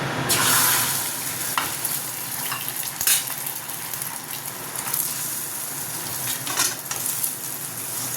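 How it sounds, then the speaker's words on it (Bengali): Egg frying in oil in a home kitchen, a steady close sizzle that runs without a break, with occasional louder bursts and stirring clatter. "এবার ডিম দিয়ে এটাকে রেডি করে দেবো। তেল ব্যবহার করে করছি।"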